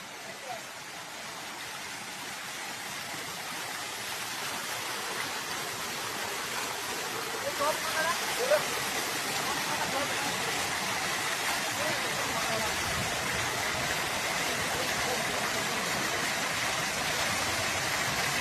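Water gushes and splashes steadily through a tank-fed irrigation canal near Nallampatti, Perundurai, Erode district, a dense, continuous rushing roar that holds close and loud throughout.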